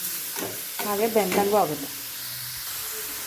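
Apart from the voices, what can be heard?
carrots sautéing in hot oil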